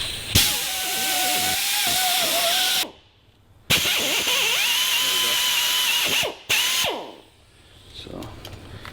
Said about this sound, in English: This air drill has just the right amount of power for doing this